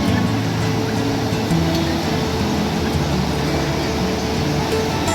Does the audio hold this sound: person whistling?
no